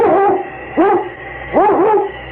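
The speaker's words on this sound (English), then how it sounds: "It's Yukon King, swiftest and strongest lead dog of the Northwest" A sled dog, the lead dog in a radio drama, barks three times in loud, close, rising yelps with brief gaps between them.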